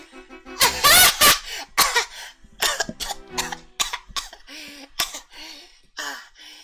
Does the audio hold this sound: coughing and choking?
yes